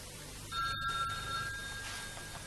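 A telephone rings inside a home in a television drama scene, with a bright electronic double-tone ring lasting over a second, moderately clear against a quiet room background.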